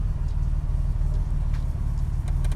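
A 1987 Buick Grand National with a big turbo and T-tops idles steadily, a low, even engine rumble with a faint hiss above it, close by and with no talk.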